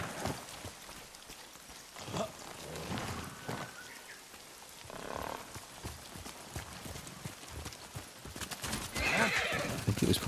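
Horse hooves clip-clop and a horse neighs in the video game Ghost of Tsushima, set against steady falling rain, moderately close with little talk.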